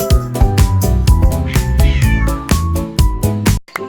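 A kitten meows loudly and repeatedly in a steady run of short, bright cries over a cheerful children's song with musical accompaniment.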